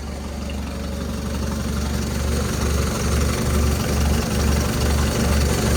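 An engine idles steadily after a cold start in freezing weather, around -3°, with a deep low rumble and a regular pulsing throb that grows slightly louder over the stretch, with no talking.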